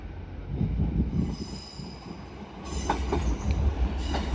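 Northern passenger train arriving at Doncaster station, rumbling on rails with low, steady rolling noise, metallic squeals and clicks rising partway through as the cars move past close by.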